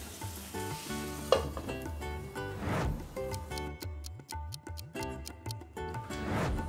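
Kadai paneer gravy cooks in a covered pan with a steady sizzle, bubbling and occasional utensil clinks, fairly close and without talk.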